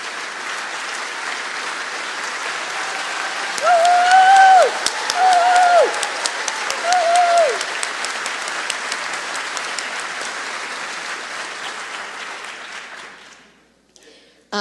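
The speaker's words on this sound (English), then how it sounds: "give them a big round of applause" An audience at a preservation symposium breaks into sustained applause, a dense wash of clapping with a few whoops rising above it early on, fading out after about twelve seconds.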